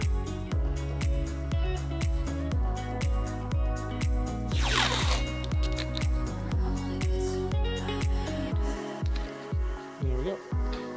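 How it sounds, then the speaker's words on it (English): Painter's tape is pulled off the roll in quick repeated ripping strips while clamping a woodworking glue-up, loud and close over steady background music. "I'm just gonna go the economic route and just use painter's tape."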